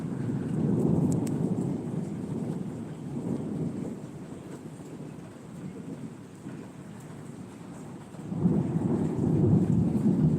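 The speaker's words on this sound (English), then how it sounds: "Ooh, that was lightning coming close." A thunderstorm rolls overhead with deep rumbling thunder swelling and fading under steady rain, a low continuous roar that grows loud again near the end.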